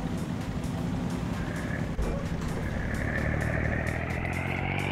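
Engine of an IMT 549 tractor in a video game mod, a continuous loud droning hum with a rising whine as revs climb, steady throughout with no talk.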